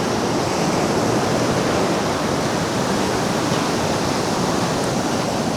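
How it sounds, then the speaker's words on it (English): Rough monsoon-season ocean surf pounding a beach, a loud, continuous broadband roar of breaking waves and wash close by, steady throughout with no voices. "As you can see, the ocean is pretty rough."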